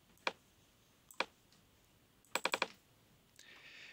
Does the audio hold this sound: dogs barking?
no